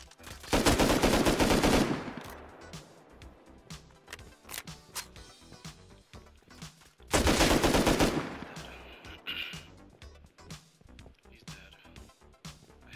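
Two loud bursts of automatic gunfire from a Tommy gun in the Rust console video game, each lasting about a second or two, with quieter in-game clicks and shuffling sounds between them.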